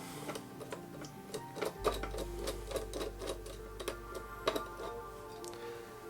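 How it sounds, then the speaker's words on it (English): Phillips screws being backed out of a monitor stand on a soft work surface: a quick, steady run of close, crisp ticking clicks, joined partway through by a low continuous hum. "I'm going to remove the stand with its 4 Phillips screws"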